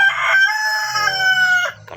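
A young jungle fowl rooster crows once, close and loud, a drawn-out strained call with a clipped ending and a faint cluck after it.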